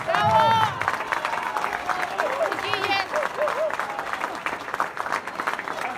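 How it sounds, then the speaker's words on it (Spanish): Crowd applause and cheering at a Chile Vamos political rally in Antofagasta, a loud swell of clapping that gradually thins while a voice speaks over it. "Un aplauso quiero para ellos."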